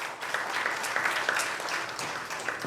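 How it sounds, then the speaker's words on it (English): Audience applause for Paresh ji at an opening address, steady dense clapping from a crowd that holds evenly for the whole stretch with no talk over it. "So can we give him a big round of applause?"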